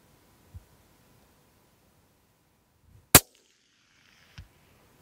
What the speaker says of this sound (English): Shoot one in there.